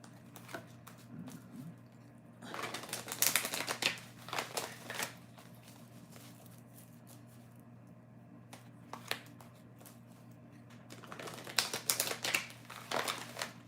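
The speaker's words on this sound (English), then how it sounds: "I'm going to shuffle one other deck" A deck of cards is shuffled in a few quick riffling bursts, close and crisp, separated by quiet stretches over a faint steady hum.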